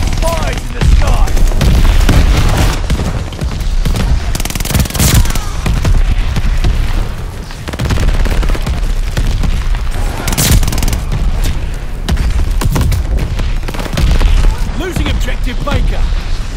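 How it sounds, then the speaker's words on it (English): Mortar fire and explosions rumble through a Call of Duty: Vanguard match, with loud, dense booms and rattling gunfire layered continuously over in-game voice callouts. "Allied mortar fire coming!"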